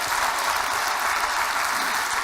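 A conference audience at a health summit applauds steadily, a dense, even wash of clapping from a large crowd that holds throughout.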